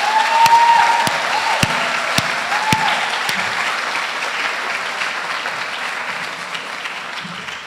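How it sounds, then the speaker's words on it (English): A graduation ceremony crowd gives a sustained round of applause, full and fairly close, with a few sharp individual claps standing out early and a brief tone at the start. "Let's give him another round of applause"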